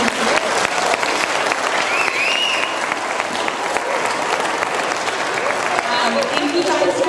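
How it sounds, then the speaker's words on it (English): An audience at a school chapel applauds the skit groups in a long, dense round of clapping that holds steady throughout, with scattered cheers and voices mixed in. "So can we just give all the groups a round of applause?"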